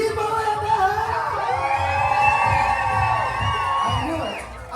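Party crowd cheering and whooping aboard the Norwegian Prima cruise ship, a loud, steady roar of many voices with rising shouts and whistles lasting throughout.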